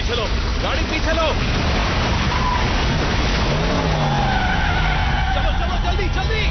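A car reversing with its tires skidding and squealing during an oncoming storm, with rough, continuous road noise and scattered squeal tones throughout.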